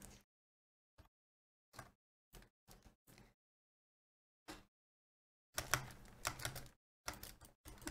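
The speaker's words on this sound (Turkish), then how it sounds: "klavye sesi geliyorsa özür dilerim" Computer keyboard typing during PC gameplay, heard as isolated single key clicks separated by silence and then short, denser bursts of keystrokes, fairly quiet and close.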